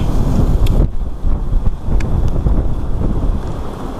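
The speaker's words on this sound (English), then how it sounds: "It is real windy." Strong wind at a farm pond buffets the microphone with a loud, continuous low rumble and roar, occasional gusts thumping against it.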